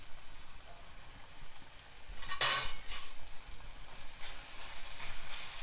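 Cooked kichidi being stirred together with chopped spinach and half a spoon of salt, a spoon scraping and clinking against a metal pot in one bright burst, then softer stirring scrapes in a quiet kitchen.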